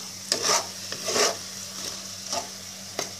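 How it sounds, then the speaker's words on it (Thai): French fries being stirred with salt in a pan: a few soft scraping and rubbing strokes in separate short bursts, quiet and close, with no talking. "สร็จแล้วก็คนเฟรนฟรายกับเกลือให้เข้ากัน"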